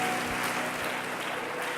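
A church congregation applauds to acclaim the Lord, a brief wash of steady crowd clapping at moderate distance, fairly soft and even throughout.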